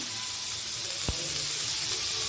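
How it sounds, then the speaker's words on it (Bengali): Chopped onions cut in large pieces go into hot oil in a pan for shahi paneer, giving a steady, even sizzle and hiss with one brief soft knock partway through, and no voices. "এবার আমি পেঁয়াজগুলো দিয়ে দেবো।"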